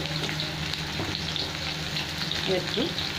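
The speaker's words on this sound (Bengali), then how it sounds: "সবগুলো ভেজে নেবো ভালো করে, হালকা একটু নুন আর হলুদ দেবো" Sliced pointed gourd (potol) fries in oil with a little salt and turmeric, a steady close sizzle with faint stirring clinks and no talking.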